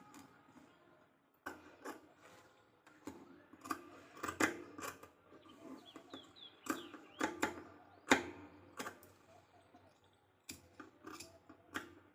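Scissors snip through blouse fabric in short, quiet crunching cuts with brief pauses between them, close by and without talk.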